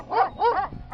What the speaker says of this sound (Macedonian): А таа е кучка?